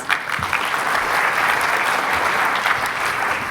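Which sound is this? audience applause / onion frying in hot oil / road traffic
audience applause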